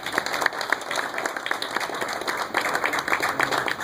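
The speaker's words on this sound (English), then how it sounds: "Can we have a round of applause for these men," Audience applause for the men of Norwood at a GM matching-numbers seminar during the 2015 GM Nationals, a scattered crowd clapping with distinct individual claps, moderately close and steady.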